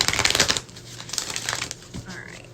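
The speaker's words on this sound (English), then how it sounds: "Let's do one more shuffle." Oracle cards being shuffled by hand, with a quick burst of crisp rustling and riffling up front, then lighter scattered card sounds fading off.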